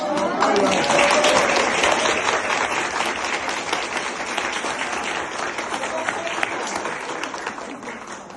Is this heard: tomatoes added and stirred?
no